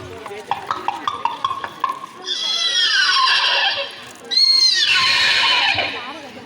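A human voice imitates a horse at a school talent-fair mimicry contest, with rapid tapping clatter first, then two long, loud, quavering whinnies in a row.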